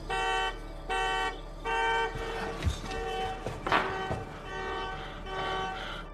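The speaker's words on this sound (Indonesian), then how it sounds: "Saat alarm mobil berbunyi" A car alarm blares in repeated horn bursts, then shifts into a warbling, changing pattern, loud and close with no talking.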